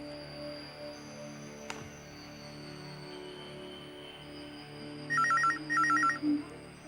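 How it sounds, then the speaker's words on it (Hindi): A telephone rings in a quiet indoor scene, two short electronic trilling bursts in quick succession, clear and alone. "प्लीज फोन उठाना"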